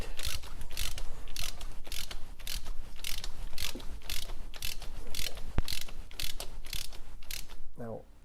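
A ratchet with a slim 13mm socket tightening a turbo stud on a Lancia Delta Integrale Evo1 gives a loud, continuous rapid clicking for about eight seconds, close up, with a brief metallic clank at the end.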